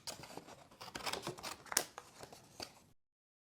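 Scissors fussy-cutting a stamped snowman out of cardstock, a run of close, quiet snips and rustles in an uneven rhythm, with nothing else around them.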